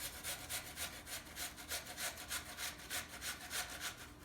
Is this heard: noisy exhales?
no